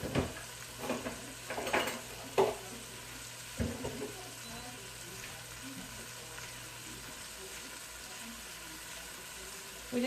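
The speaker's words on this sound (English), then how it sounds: "We just want a quick sear" Beef sears in a hot pan with a low, steady sizzle and a few sharp pops and clatters of tongs, with faint running-water noise in the background.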